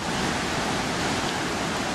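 Victoria Falls roars in a steady, dense wash of falling water, broad and unbroken, with no voices over it.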